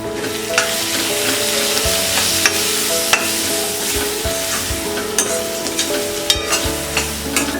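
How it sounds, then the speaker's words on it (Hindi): Spices including garam masala and kitchen king masala fry on a low flame, crackling and sizzling steadily up close while a spoon stirs and scrapes the pan in irregular strokes. "इसे लो फ्लेम में हम फ्राई करेंगे। मसाले सब अच्छी तरह से फ्राई हो गए हैं।"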